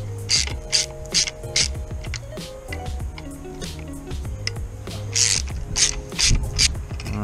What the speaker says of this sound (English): first thing you want to do is get a ratchet.